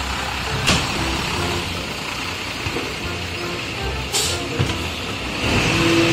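Trucks rumble past on a road, a steady broad engine and tyre noise with a couple of brief hissing air-brake bursts, heard fairly close with no talk over it.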